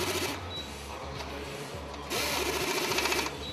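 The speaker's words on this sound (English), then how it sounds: "The operator starts tightening and the tool stops every time the correct torque is reached." A Yokota pneumatic impulse tool tightens joints with a steady, dense mechanical rattle that grows louder partway through, running continuously and close up with no talk.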